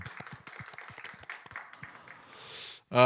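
A small congregation at Daegu Dongseong Church claps in thanks, uneven and scattered hand claps beating for a couple of seconds before thinning out and fading.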